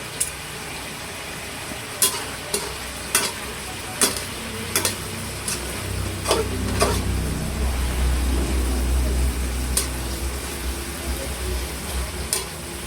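Green chilies fry and sizzle in a pan with a steady hiss, while a utensil scrapes and taps the pan at irregular intervals as they are stirred; no voices.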